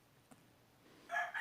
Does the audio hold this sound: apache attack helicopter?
no